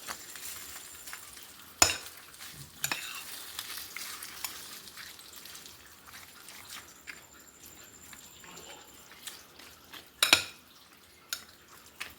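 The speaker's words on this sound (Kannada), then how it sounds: "ಒಗ್ಗರಣೆ ಸಹ ಹಾಕೊಂಡ್ಬಿಡುವ" Soft, steady sizzling of hot oil as a tempering for curd rice cooks, with a few sharp clicks and clinks of a utensil against a pan.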